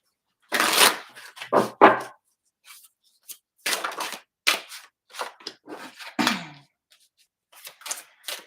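A Marigold Tarot deck being shuffled close up, with bursts of crisp riffling and slapping card sounds coming in irregular clusters separated by short pauses.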